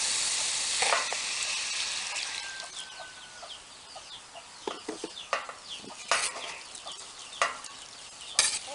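Soy sauce poured into a pan where fatty pork has been frying for Pancit de Cebu bam-i, giving a steady close sizzle with sharper hissing bursts that flare and fade several times.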